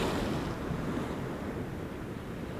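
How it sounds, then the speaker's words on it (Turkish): Stormy sea surf at Şarköy in November, a steady, loud roar of crashing waves mixed with gusting wind buffeting the microphone, with no voices. "bu dalgalarda var ya acayip oynanır ha"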